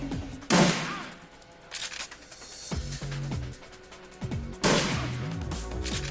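Shotgun blasts go off in the turn-based video game Shadowrun Returns. Two loud booming shots sit a few seconds apart, with mechanical clanks and other game effects in between.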